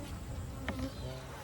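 Honeybees buzz inside an open beehive, a dense, close droning hum with a brief louder swell of wings partway through.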